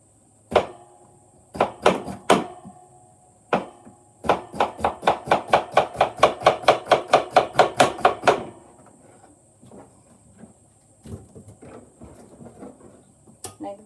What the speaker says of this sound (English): so I'll just cut it thinly